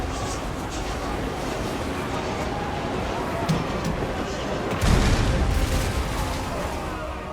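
Hell cannon artillery fire in a Total War Warhammer battle: a continuous roar of distant booms and blasts rolls on, with a louder burst near the end, while someone talks over it.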